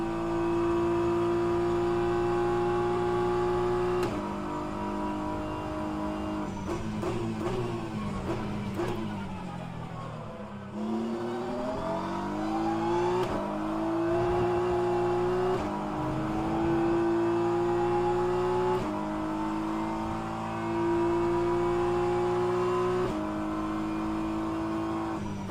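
Race car engine in rFactor 2 drones steadily through a lap, loud and continuous, with pitch rising and falling through gear changes and a brief dip around braking, no talk.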